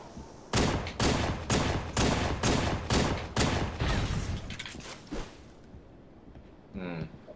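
Pistol gunfire from a Halo 3 multiplayer match: about nine sharp shots in a quick steady rhythm, fired from afar, ending with a few scattered pops and a short electronic tone.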